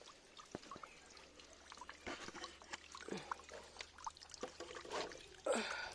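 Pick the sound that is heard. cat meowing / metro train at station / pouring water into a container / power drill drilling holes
pouring water into a container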